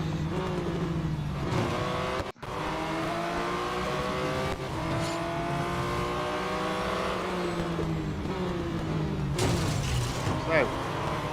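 Race cars in the Real Racing 3 video game roar and rev continuously, engine pitches sweeping up and down through gear changes as cars jostle. A brief dropout occurs, then the revving resumes, with no talk.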